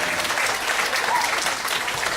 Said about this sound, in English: can we just give him a round of applause and thank him for all his hard work